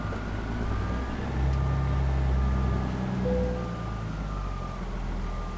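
A Peterbilt 389 logging truck with a logging trailer reverses in American Truck Simulator, its deep engine droning steadily while a faint backup beeper repeats in even pulses over the rumble.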